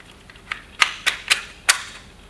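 Four or five sharp metallic clicks and snaps, close and fairly loud, as the slide of a Umarex VP9 air pistol is fitted back onto the frame, separated by brief pauses.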